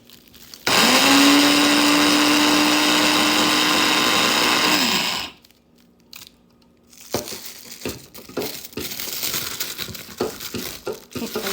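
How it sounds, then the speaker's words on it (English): An electric grinder whirs loudly and steadily for about four seconds as it pulverizes dried minced garlic into powder, then cuts off abruptly, followed by rattling and handling noises from the container. "put my lid on the grinder"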